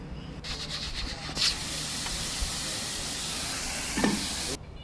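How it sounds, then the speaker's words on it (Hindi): A pressure cooker holding mutton with green chillies hisses steam as a loud, continuous close whoosh for several seconds, with brief louder spurts, and then cuts off abruptly. "15 से 14 मिनट तक इसको प्रेशर करेंगे।"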